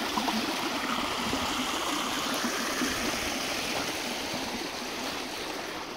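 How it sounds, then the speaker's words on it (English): Spring water gushes and splashes steadily from a small hole in a hillside under leaves, a continuous, full rushing stream close by, unbroken and fairly loud. "There's a hole right here gushing water."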